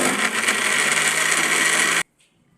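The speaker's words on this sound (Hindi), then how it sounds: "मिक्सी जार में हम इसको अच्छे से मिक्स कर लेते हैं।" An electric mixer grinder whirs loudly as it blends mango in a jar, a dense steady buzz that cuts off abruptly near the end, leaving near silence.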